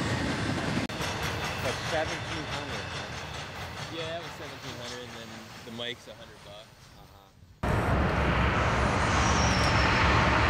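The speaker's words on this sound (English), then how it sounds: "BNSF 4712, a GE C44-9W, was a nice catch on this Z train." A BNSF GE C44-9W diesel locomotive hauls a Z train past, a steady rumble and wheel clatter with a person talking over it before the noise swells louder and closer near the end.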